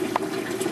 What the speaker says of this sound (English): horizontally through the fittings and starts draining down into this little water bottle